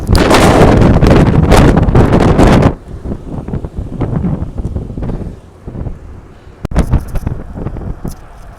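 Strong wind roars across the microphone of a cyclist riding over a bridge in Norway, loud and gusting for the first few seconds, then easing into a lower, uneven rush with brief renewed gusts near the end.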